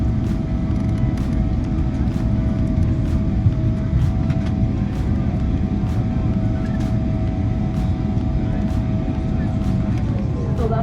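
Turkish Airlines Boeing 777-300ER landing in a heavy rainstorm, heard from inside the cabin as a steady, loud low roar of engines and airframe with a faint whining tone and occasional clicks throughout.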